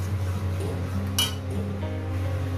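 A cooking pot sautéing cumin, coriander and turmeric powder for a Bengali bhetki fish-bone chorchori, with soft clinks of a utensil against the pan over a steady background hum and a brief brighter scrape midway.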